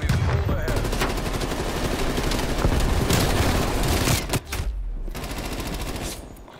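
Frag grenade use during a Black Ops Cold War team deathmatch on Nuketown, amid dense, continuous loud gunfire and booming blasts from several weapons, with a brief dip near the end and no clear talk.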